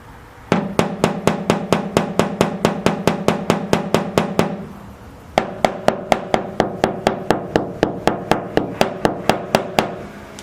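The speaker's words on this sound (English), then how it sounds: "These dents, guys, you don't have to hit it real hard. It's just like a little tapping." Hammer lightly tapping out dents in a car body panel during bodywork, a steady run of quick metallic knocks, a short pause, then another even series, close and clear with no talking.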